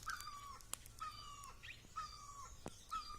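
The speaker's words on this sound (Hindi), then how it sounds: "और ये पंछी की आप आवाज़ सुन सकते होंगे।" Birds call repeatedly in a Himalayan mountain village in Pauri, Uttarakhand, giving several clear, moderately loud whistled notes with sharp clicks between them over a soft outdoor background.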